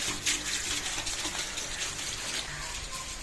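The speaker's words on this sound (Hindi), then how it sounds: "ये सारा छत वाला पानी जो है ना इस पाइप की मदद से इधर नीचे आ रहा है" Rainwater from a house roof gushes down through a drain pipe onto grass during a rainy day, a steady, close splashing rush of water that runs unbroken for the whole stretch.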